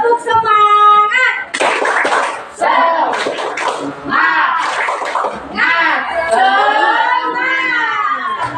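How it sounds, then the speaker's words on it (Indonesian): A group claps out the rhythmic 'tepuk semangat' spirit clap, with quick bursts of hand slaps mixed into loud group chanting voices. "Sekali lagi. Tepuk semangat."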